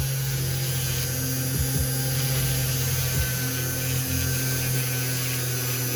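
A Dremel rotary tool on its lowest speed polishing a wrap gives a steady, even hum that holds throughout, with a couple of faint taps and no speech.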